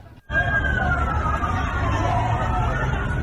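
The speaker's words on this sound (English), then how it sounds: "Banging, loud sirens and cries for help." A wailing emergency siren sweeps up and down over a loud crowd murmur and clatter at a train crash site in Mexico, steady and fairly near after a brief quiet start.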